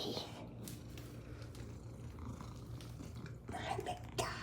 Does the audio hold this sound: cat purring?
yes